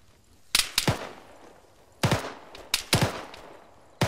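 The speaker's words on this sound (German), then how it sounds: "Mich wird geschossen." Gunfire from the video game Arma 3 Exile: a few separate loud shots and short bursts crack out, spaced irregularly across a few seconds against quiet in-game ambience.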